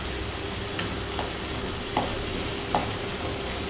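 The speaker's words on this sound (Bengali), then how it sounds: "এখানে টমেটো দিয়েছি, হলুদ দিয়েছি, দিয়ে মশলাটা প্রায় কষার দিকে" A spice mix with onion, potato, tomato, turmeric, chili and cumin paste frying in a pan, a steady soft sizzle with a few light scrapes of stirring at intervals, no talking.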